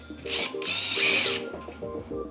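A cordless power drill spins bolts into a Koda utility cart during assembly, its motor whining loudly in two bursts with ratcheting clicks from the chuck and a brief pause between.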